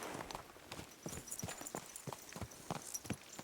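Horse hooves clip-clop in a steady walking rhythm in Kingdom Come: Deliverance 2, crisp, distinct strikes at close range that stand out clearly against quiet ambience.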